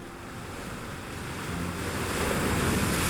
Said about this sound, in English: Above it all, polar winds never stop, shaping snow into frozen waves